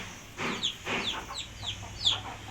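Desi laying hens cluck in a quick series of short, bright calls, close by and fairly soft, with no other voices.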